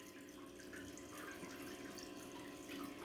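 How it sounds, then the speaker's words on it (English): During an aquarium water change, water runs steadily through a hose into the tank, making a soft continuous gush with light trickling and no talking. "the water is coming through this hose right here."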